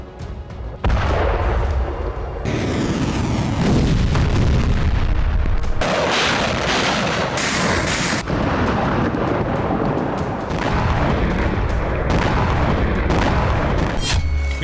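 Continuous artillery shelling and explosions in Crimea around Sevastopol, with heavy, dense booms and rumbling blasts that stay loud throughout and change character every few seconds, with no talk.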